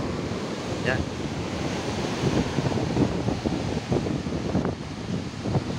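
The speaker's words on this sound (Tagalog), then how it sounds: "ang laki ng alon talaga." Big waves surge and crash beside a road after a typhoon in Tanza, a continuous loud roar with gusty wind buffeting the microphone and a brief spoken word.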